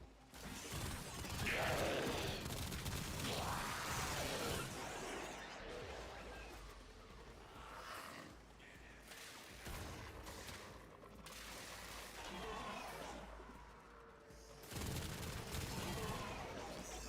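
Rapid mechanical gunfire from an infinite-ammo weapon in a video game, clattering in bursts over a busy game soundscape, loud and close, with a voice talking over parts of it.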